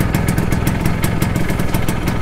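A Vespa ET3 scooter's two-stroke engine idles just after starting, loud and close, with a rapid, even putter and rattle that continues steadily throughout.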